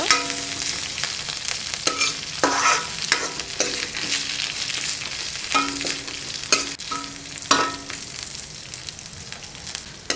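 Lentils frying in oil with curry leaves, a steady crackling sizzle broken up by repeated clanking stirs of a spatula against the pan.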